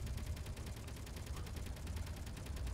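Gun fire from a fighter in the space video game Space Engineers: a rapid, evenly spaced stream of automatic shots, loud and steady throughout, with no one speaking.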